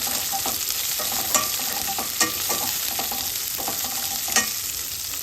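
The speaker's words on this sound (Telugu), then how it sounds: "ఉల్లిగడ్డలు మంచిగా నూనెలో మంచిగా వేగనివ్వాలి." Onions fry in oil in a pan as a steady close sizzle, punctuated by several light scrapes and clinks of stirring, with no talk.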